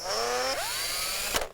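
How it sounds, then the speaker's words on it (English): A small handheld power drill whines steadily while backing off a tiny retaining nut on a fin roller, its pitch rising and settling as it spins up, then a brief clatter at the end. "so drill it is."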